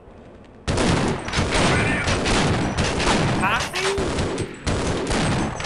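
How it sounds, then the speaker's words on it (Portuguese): Sustained, loud machine gun fire in the Half-Life video game, dense continuous bursts starting abruptly and continuing with brief pauses, with a man's exclamations over the shooting. "a metralhadora do menino aqui é muito mais forte"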